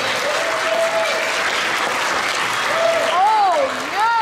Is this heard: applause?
yes